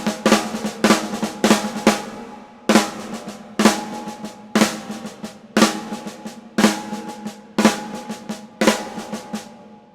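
A snare drum plays the Blushda lick, repeated over and over: quick clusters of sharp strokes ending in a right-handed drag, bright and close with a steady groove and no talking.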